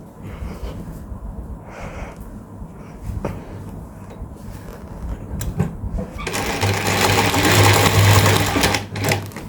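A zigzag sewing machine stitches cordon thread on a clutch bag, running in short bursts at first and then settling into a steady, louder whirring run in the second half, close and alone without talk.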